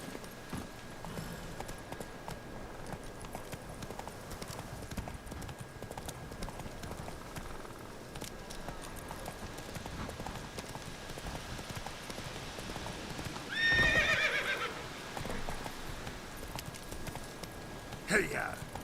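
Hoofbeats of a horse in The Witcher 3 game clip-clop steadily throughout, with a voice shouting over them and a brief louder burst near the end; no clear whinny stands out.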